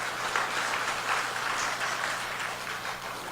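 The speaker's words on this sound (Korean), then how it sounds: "하나님 앞에 감사의 박수 돌립니다." A church congregation at a Sunday service claps in a dense, steady round of applause that fills the space loudly for several seconds and tapers slightly at the end.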